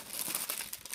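An empty, puffed-up plastic bag, packed inside a box of Gunnar computer eyewear, crinkles in quick, faint rustling bursts close by with no voices.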